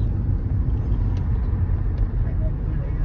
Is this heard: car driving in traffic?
yes